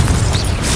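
Confringo blasting spell exploding in Hogwarts Legacy, a dense booming burst with heavy low rumble filling the whole short moment, loud and close, with no voices over it.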